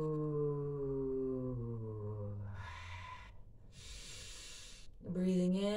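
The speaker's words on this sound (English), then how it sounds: "exhaling, and then breathing in." Slow, audible breaths in and out during a relaxation exercise, two long airy whooshes heard close, framed by a voice sustaining low vocal tones before and after.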